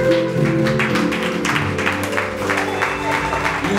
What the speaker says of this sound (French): levez-vous sous les acclamations de l'Église.